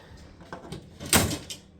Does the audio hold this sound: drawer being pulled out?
yes